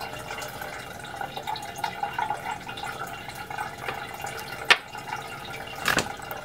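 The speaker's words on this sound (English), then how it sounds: "You see how the water bubbles out." Water trickling and bubbling softly from the spout of a handcrafted ceramic cat drinking fountain, a quiet continuous gurgle with a couple of louder splashy pops near the end.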